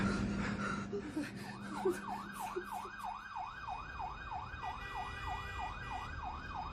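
A wailing emergency siren rises and falls in a steady repeating sweep, moderately distant, after some brief rumbling and clatter at the start.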